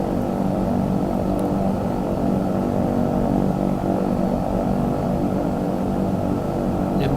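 Twin propeller engines of a Dreamfoil EMB110 aircraft in a flight simulator drone steadily in flight, a loud continuous hum that holds constant throughout with no talk.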